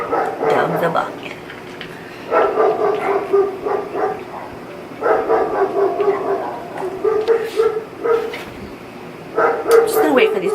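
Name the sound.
dogs barking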